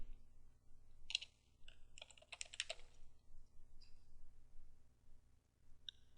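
Keys on a computer keyboard tap out a short command in two quick bursts, with a single click near the end, close and quiet in an otherwise silent room.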